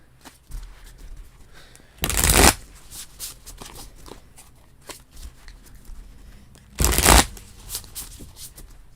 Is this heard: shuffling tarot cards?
yes